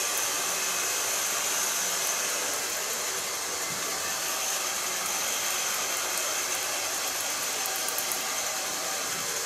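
A hair dryer blow-dries hair during a salon cut and colour, a loud steady whooshing roar that runs unbroken from start to finish with no talk.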